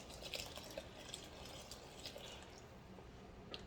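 Warm water pours into a bowl for homemade pizza dough, a faint, continuous trickle with a few small splashes and drips, heard alone.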